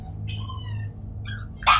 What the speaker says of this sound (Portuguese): o cachorro não para de latir